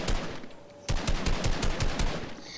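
Fortnite Reload gunfire: a quick automatic burst, a brief pause, then a longer string of rapid, punchy shots at close range.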